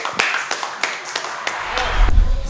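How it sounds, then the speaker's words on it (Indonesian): An audience welcomes Yosua from Depok to the stage at a football talk event with a few sparse, sharp claps at uneven intervals, followed by a low rumble and faint room noise. "boleh kita beri tepuk tangan buat Yosua dari Depok"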